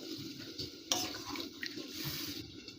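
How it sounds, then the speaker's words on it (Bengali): Water poured from a vessel into a pan of spiced chang fish curry with poppy seed paste, a steady close splashing and trickling with one sharper splash early on, no talk. "এবার এর মধ্যে যতটা পরিমাণ জল দিয়ে দেবো"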